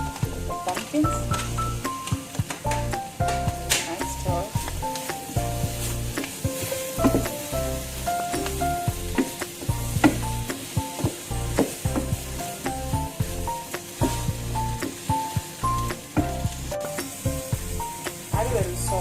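Broccoli and pumpkin sizzle and fry in a hot pan for an eggless quiche filling, a steady close crackle with scraping and stirring clatter, backed by music.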